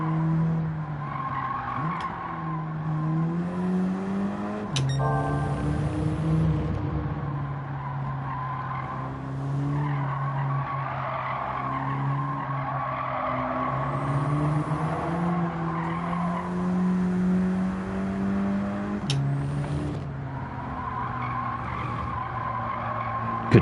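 A Subaru races in the video game Gran Turismo 7, its engine droning and shifting pitch through gears while tires squeal and skid in long stretches, loud and continuous with no talk.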